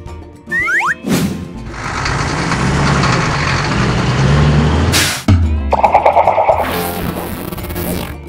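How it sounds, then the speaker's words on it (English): A fire truck engine in a street scene, running loud and steady, followed by a sharp hiss like an air brake and then a rapid rhythmic mechanical clatter, with brief whooshing effects at the start and end. "Fire truck."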